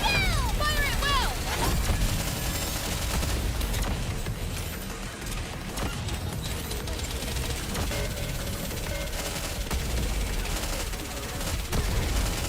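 Gunfire in NIKKE, an anime shooter game, a dense continuous fusillade of rapid shots mixed with mechanical clatter and game music, loud throughout, with shouted voices over it.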